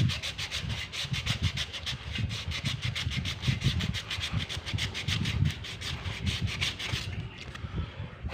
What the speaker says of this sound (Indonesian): Amplas dulu.